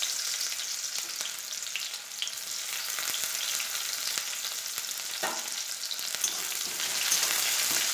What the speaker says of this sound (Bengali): এবার আমি পেঁয়াজগুলো তেলের উপরে দিয়ে দেবো